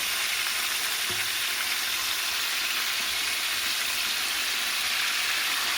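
Red capsicum and green peppers fry on a wood stove, giving a steady, even hiss with no other sounds over it.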